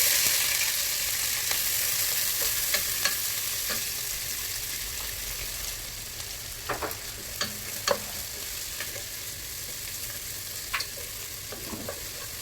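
Chopped onions fry in a pan for a prawn biryani, giving a steady, bright sizzle throughout, with occasional clinks and scrapes as they are stirred.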